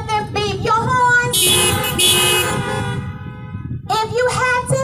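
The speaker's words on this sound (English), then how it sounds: "If you're happy they are pastors, beep your horn." Loud overlapping car horns sound together at a drive-in church service, a sustained blaring chorus lasting a couple of seconds between stretches of an amplified preacher's speech.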